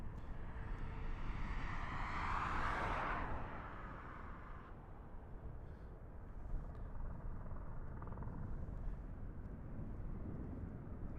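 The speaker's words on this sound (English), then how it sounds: "this is gonna be Southwest Flight SWA WN 459er heading up to Reno, Boeing 737" Southwest Boeing 737 jet taking off at Las Vegas airport, a broad distant roar that swells and then fades into a steady, softer rumble as the aircraft climbs away.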